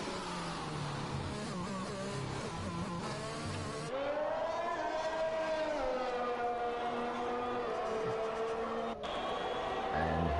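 A race car howls through a sim racing qualifying lap at the Spain circuit, its engine pitch rising and falling smoothly through the corners, sustained and fairly close, with a brief cut near the end.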